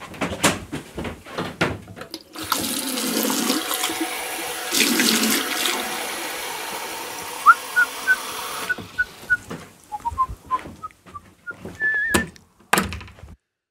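Water from a tap runs steadily for several seconds as a drink is poured, bracketed by knocks and clunks of handling, followed by a series of short high squeaks and clinks after the flow stops.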